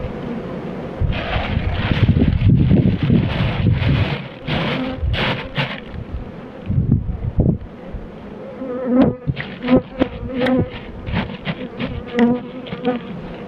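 Dense honeybee buzzing at an open hive fills the clip, a loud continuous drone with fluctuating intensity and occasional closer bees passing near.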